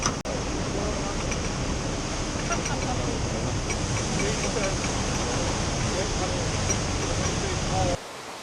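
Water rushes loudly and steadily through the scissor paddles of a canal lock at the Bingley Five Rise staircase, a dense, continuous roar close by that fills the whole clip before cutting off near the end.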